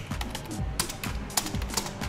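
Quick, light keystrokes on a computer keyboard, entering an Oracle database command at a prompt. Irregular taps sound close and fairly soft, with a few sharper hits standing out.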